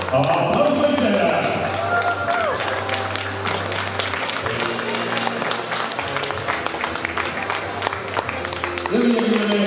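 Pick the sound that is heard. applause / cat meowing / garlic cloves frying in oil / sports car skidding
applause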